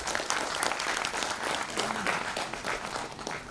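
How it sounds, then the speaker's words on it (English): An audience at a leadership summit and awards event in Delhi applauds as a guest is invited onto the stage, a steady, moderately distant wash of many hands clapping with no speech. "A huge round of applause"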